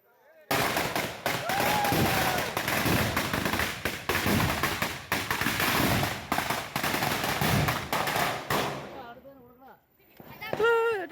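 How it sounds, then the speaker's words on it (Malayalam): A long string of firecrackers bursts in rapid, crackling succession at a New Year celebration, loud and close, before cutting off to quieter voices at the end. "ഓലപ്പടക്കം പൊട്ടിക്കാൻ മാലപ്പടക്കം പൊട്ടിക്കാൻ പോവാണ്"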